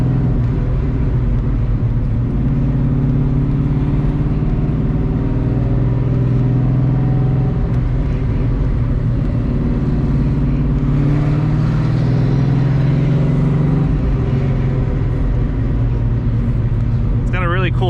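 A 1987 Ford Mustang GT with a 347 engine and old-style Flowmaster exhaust rumbles steadily and loudly from inside the car while driving, a deep continuous drone with mild swells, with talking over it.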